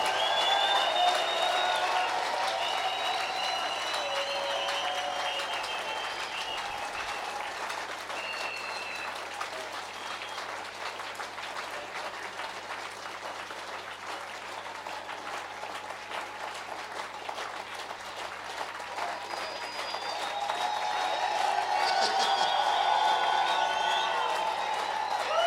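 A church congregation claps its hands in praise in the name of Jesus, with loud, sustained, dense applause and scattered cheers and whoops. The clapping swells again toward the end.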